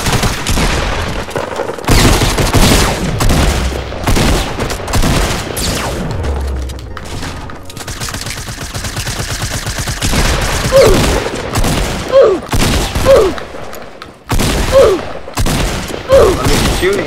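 Rapid bursts of video game gunfire in a duos match, with dense volleys and single shots crackling over the in-game soundscape while voices talk over the action.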